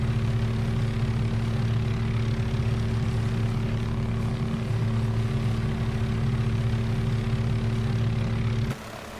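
A helicopter in Microsoft Flight Simulator 2024, its engine and rotor giving a loud, steady droning hum with strong low tones, running unbroken until it drops abruptly near the end.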